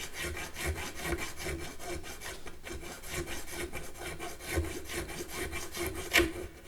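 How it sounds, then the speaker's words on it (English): A nut file carving a string slot in the nut of an ES-335 style guitar, a close, quiet rhythm of short rasping back-and-forth strokes repeating steadily, with no talking. "carve your nut slot with the appropriate file"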